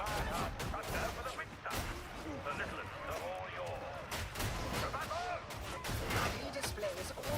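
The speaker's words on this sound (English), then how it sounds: "Shooting the enemy." Gunfire in Warhammer 40,000: Darktide, heard as repeated shots and heavier booms mixed into a dense game battle, with voices talking throughout.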